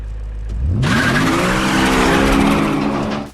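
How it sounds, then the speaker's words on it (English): A car roars in hard for a movie chase stunt, loud and near, engine pitch sweeping up and down with skidding tyres across the whole burst, no talk. "The resultant chase between the IMF and Faust brings mind-boggling car stunts to the big screen, including motorbikes, 4x4s, and driving through pedestrian streets"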